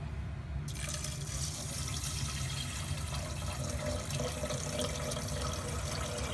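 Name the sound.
pouring mineral water into a pot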